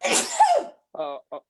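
A single loud, breathy sneeze close by, followed by a brief spoken word.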